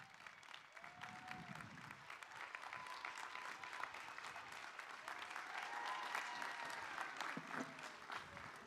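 Applause for graduates at a 2021 college commencement ceremony for health and human services, a steady crowd clapping at a faint, distant level, with a voice briefly audible over it.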